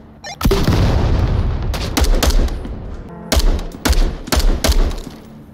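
Video game gunfire in a loud shootout, a heavy opening blast followed by repeated sharp bursts of shots and booms, close and dense with no talking.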